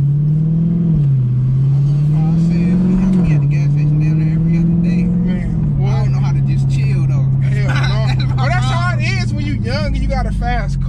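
A Dodge SRT 392 V8 engine revs and accelerates loud and close, its pitch climbing and falling in surges, with later overlapping whoops and shouts layered on top.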